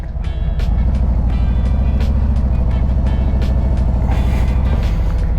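A motorcycle engine is given gas, a loud, close, pulsing rumble that holds steady throughout with slight rises in revs.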